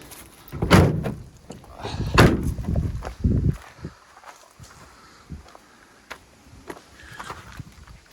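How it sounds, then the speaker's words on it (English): Sliding and hinged doors on a Ford Transit Jumbo minibus are shut in turn, giving three heavy, close thuds about a second apart, followed by quieter rattles and knocks. "Shut these doors now."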